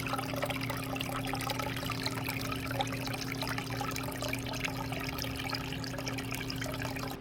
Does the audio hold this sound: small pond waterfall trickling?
yes